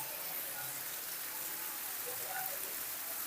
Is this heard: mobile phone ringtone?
no